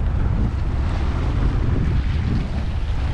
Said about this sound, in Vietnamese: Đây là biển bao la.